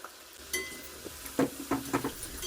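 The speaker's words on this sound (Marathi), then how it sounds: "मस्त तेल गरम झाले त्याच्यामध्ये या वड्या टाकून फ्राय करून घेणार आहे" Vadis frying in hot oil in a kadai, a soft sizzle punctuated by several close metallic clinks and scrapes of a utensil against the pan in quick succession.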